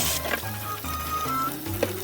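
Sweetfish fry in oil in a tilted pan, giving a close, continuous crackling sizzle with small pops and shifts as the pan moves.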